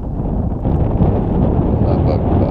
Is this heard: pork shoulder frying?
no